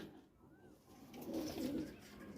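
Pigeons in a loft give soft, low cooing murmurs, faint and somewhat distant, swelling briefly toward the middle of the clip.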